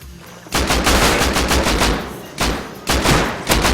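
Video game gunfire, bursts of rapid automatic shots, including a Kalashnikov-style rifle, loud and close, in two long volleys separated by short pauses, with no talking.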